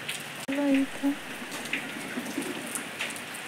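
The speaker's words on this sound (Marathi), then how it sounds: "पाऊस चालू आहे" Rain falls steadily while people shelter, a soft continuous patter close by, with a brief voice and a sharp tap near the start.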